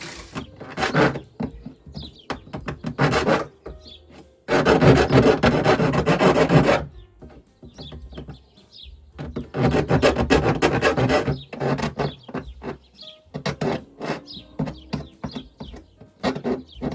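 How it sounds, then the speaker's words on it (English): A deburring tool scrapes along the jagged edge of a freshly cut hole in a camper van wall, made while fitting a 30 amp RV power inlet, in several rough rasping strokes of varying length with quiet gaps between them. "The deburring tool wasn't getting that, so let me go on the other side and do that."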